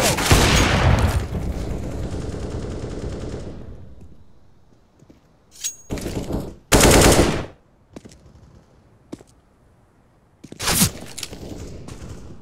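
Bursts of automatic gunfire from Counter-Strike: Global Offensive, a long loud volley at the start fading out, then scattered short shots and two sharp single bursts later, with no talk over them.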